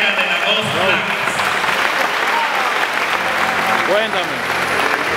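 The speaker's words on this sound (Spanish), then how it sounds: "Con un fuerte aplauso" Loud, sustained applause from a crowd at the opening ceremony of an evangelical basketball league in Higüey, clapping steadily for several seconds while voices speak over it.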